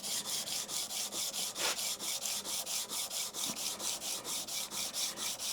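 A plane blade pushed back and forth over a 400 grit diamond stone to flatten it, an even rhythmic rasping with about three strokes per second, close and steady, no talking.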